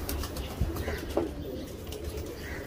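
Pigeons drinking a vitamin solution set out in front of them, with soft coos and occasional wing flutters over a steady, noisy background.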